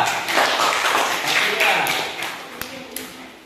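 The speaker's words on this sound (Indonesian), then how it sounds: "Tepuk tangan dulu untuk kawan-kawan kita." Classroom of Islamic studies pupils clapping for their classmates, a dense patter of hand claps with scattered sharper taps, fading toward the end while voices carry on underneath.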